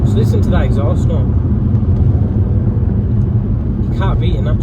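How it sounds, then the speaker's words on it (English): A loud, steady drone from a BMW M3 (E90/E92) naturally aspirated V8 fills the clip, with a deep exhaust rumble and brief speech-like sounds near the start and end. "just listen to that exhaust note"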